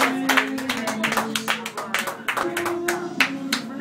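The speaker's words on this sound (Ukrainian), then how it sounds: "Оплески, оплески!" Audience applause at a Ukrainian family gathering, dense clapping from a nearby crowd with musical tones sustained underneath and scattered voices mixed in.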